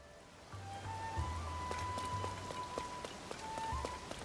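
Rain patters steadily and softly over Kakariko Village in Zelda: Tears of the Kingdom, a continuous hiss of falling drops beneath sparse, gentle game-music tones.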